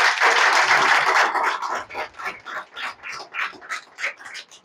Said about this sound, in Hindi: ताली बजाओ मेरे लिए एक बार।